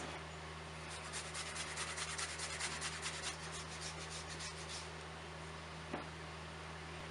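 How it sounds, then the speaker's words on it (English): Fresh ginger is rubbed across a grater for a chicken inasal marinade, a quiet run of quick rasping strokes for a few seconds over a steady low kitchen hum, then a faint knock. "We'll grate some of our ginger."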